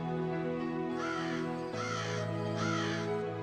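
A cartoon crow caws three times in a steady, evenly spaced rhythm, clear and close over a constant tonal background.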